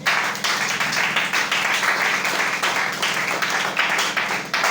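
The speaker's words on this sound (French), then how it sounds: "Acclamez très fort" A church congregation claps loudly together, dense sustained applause with rhythmic pulses, close and continuous throughout.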